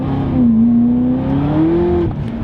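A naturally aspirated sports car engine revs hard as the tires break loose, a loud close drone rising and falling in pitch, then dropping away.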